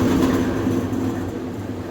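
GMC truck engine running on a dyno while chasing a misfire, a steady loud droning rumble with a low throbbing hum, close and continuous, with no talking.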